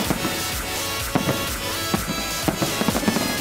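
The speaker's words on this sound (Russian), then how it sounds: "Сразу после неба озарил праздничный салют." Festive fireworks go off at a city celebration in Bobruisk, sharp bangs and crackles bursting irregularly over a loud steady background roar, with several distinct pops in quick succession.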